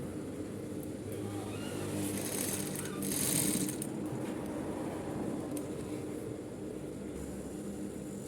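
A sewing machine stitches a suit coat collar, running as a steady, fairly quiet mechanical whir with no clear pauses across the whole stretch.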